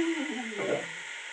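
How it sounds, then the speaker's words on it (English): Spaghetti sizzles as it drops into a hot frying pan in a home kitchen, a brief burst of crackling frying that fades quickly, close and fairly quiet. "There's a sizzle."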